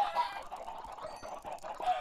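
Chickens cluck in the Minecraft video game, a short run of close, repeated clucks and squawks in a quick uneven rhythm with nothing else heard.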